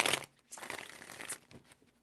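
Tarot cards are shuffled in a few quick bursts of papery riffling and sliding, close up and separated by short pauses.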